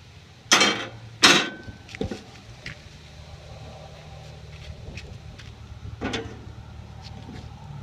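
Cast iron pans are set inside an outdoor barbecue, giving two sharp metallic clanks close together, then a few lighter knocks and a softer clunk over a low background hum.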